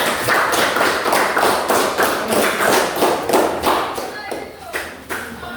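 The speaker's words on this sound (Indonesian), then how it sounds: "Mari kita memberikan aplaus kepada kelompok 3" A classroom group claps for a student team after their presentation, a steady run of sharp claps and thuds from a small crowd that thins out toward the end.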